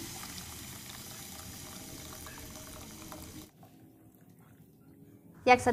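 Boiling water pours steadily into a pot of spiced dish with a continuous splashing rush for several seconds, then stops, followed by a brief clatter.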